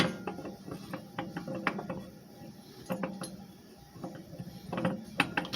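A metal washer is worked off a 5hp Briggs and Stratton engine, giving faint, close clinks and scrapes of metal parts in a scattered, irregular rhythm, with no talking.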